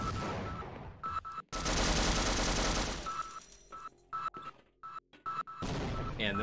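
Tripod turrets fire in Sven Co-op, sounding as loud, dense bursts of automatic gunfire that start and stop in several separate volleys, with short gaps and quieter stretches between them.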